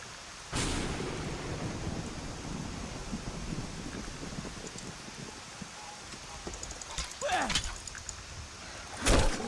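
Steady rain falls across a grassy path in the video game Skyrim, a constant hiss with a sharp burst near the start and brief louder bumps near the end, while a voice speaks faintly underneath.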